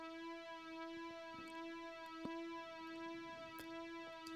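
A synth lead holds a steady, harmonically rich tone with a slight pitch wobble from LFO modulation, pulsing gently and evenly. It plays quietly on its own, with faint ticks scattered through it.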